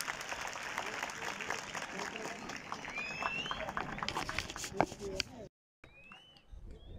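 An audience applauds at the closing ceremony of the South Punjab Schoolympics 2023, a school sports event in Bahawalpur. The sustained crowd clapping carries whistle-like calls and voices throughout and drops out briefly near the end.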